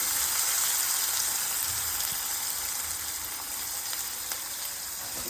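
Fenugreek leaves (methi) fry in oil for a mango chitranna, giving a continuous soft sizzle and fine crackle that fades slightly over time, close and steady with no talking.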